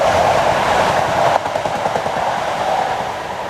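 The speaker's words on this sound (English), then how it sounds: "I think a train's coming through now." A train on the Manchester to Stoke-on-Trent line emerges from an old tunnel, a steady loud rumble with rhythmic clickety-clack of wheels that holds close and continuous throughout.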